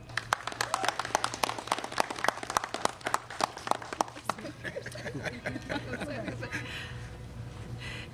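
Indoor civic audience applauding Boston Mayor Michelle Wu, with dense clapping that starts strong, then thins into scattered claps mixed with murmuring voices and some laughter toward the end.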